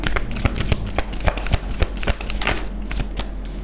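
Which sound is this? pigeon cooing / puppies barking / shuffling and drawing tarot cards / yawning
shuffling and drawing tarot cards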